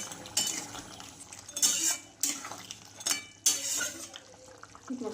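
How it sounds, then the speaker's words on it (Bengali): Utensil stirring river crab curry with potatoes and chopped coriander in a pan, several sharp metallic clinks and scrapes in bursts over a quiet wet bubbling background. "ধনে পাতা কুচি দিয়ে দেব পাতা কুচি দিয়ে ভালো করে নেড়ে চেড়ে নিলাম"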